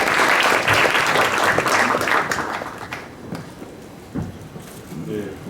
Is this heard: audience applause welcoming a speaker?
yes